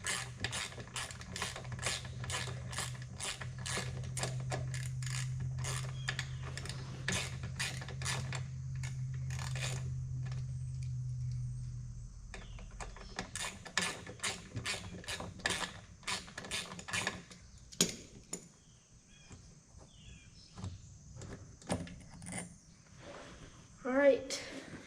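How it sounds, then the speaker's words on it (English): A ratchet turns a bolt out on a 1986 Honda XR80R dirt bike in a garage, giving quick runs of close metallic clicks over a low hum, then sparser clicks and scrapes. "there's a bolt over here I'm going to take out really quick"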